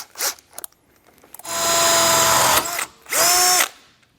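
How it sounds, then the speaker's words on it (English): A power drill with a small bit whines loudly in two sustained bursts while boring through metal on a trailer hitch frame, the second pitching down as the bit bites, with brief clicks and handling noise before. "I'm going to switch down to a smaller drill bit, and then we'll just poke right through"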